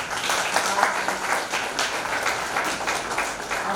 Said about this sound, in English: I request you all to welcome these mothers with the loudest applause